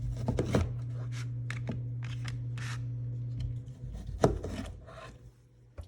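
A knife slices a zested lemon into quarters on a cutting board, with several sharp cuts and scrapes over a steady low kitchen hum and no talking.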